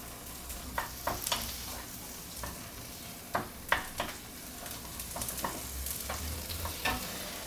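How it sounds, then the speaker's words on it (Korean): Tomatoes stir-frying in a small amount of olive oil, with a steady soft sizzle and scattered scraping stir strokes close by, no talking. "다음에 토마토를 볶아주겠습니다. 토마토는 오래 볶지 않아도 돼요."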